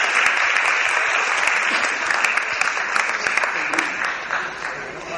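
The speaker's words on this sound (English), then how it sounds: "Give him a round of applause." A studio audience at a political discussion breaks into loud applause, dense clapping with sharp individual claps poking through, holding strong throughout and tapering only slightly at the end.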